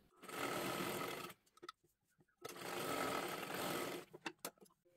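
A sewing machine stitches tucks in two sustained runs, each lasting about a second and a half, with a short pause between them and a few clicks and handling sounds at the end.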